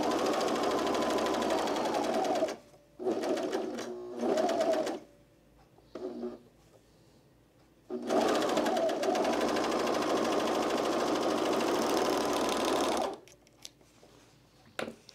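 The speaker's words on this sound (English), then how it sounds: "I need to make sure my serger needle goes to the left of this white thread" A serger sewing machine stitches a pair of pants in loud sustained bursts of rapid whirring, stopping and restarting several times with quiet gaps between runs.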